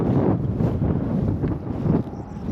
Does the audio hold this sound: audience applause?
no